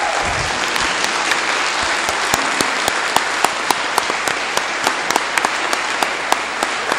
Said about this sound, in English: I actually would like to give these two a round of applause at this point